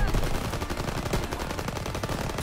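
Rapid gunfire from the World War II shooter game Call of Duty WWII, dense and continuous, with shots in quick bursts throughout, loud and close with no talking over them.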